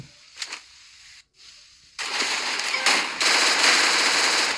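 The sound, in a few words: gunfire from enemy in Free Fire video game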